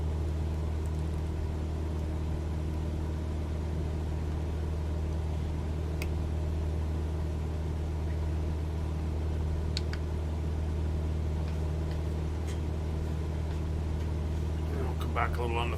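Steady, droning engine and propeller hum of a Cessna 172SP light aircraft heard from inside the cockpit, a constant close rumble with no change in level throughout.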